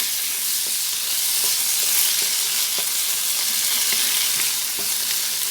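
Bitter melon with egg stir-fried in a hot pan, a loud, steady close sizzle with faint scraping stirs running throughout, no voices.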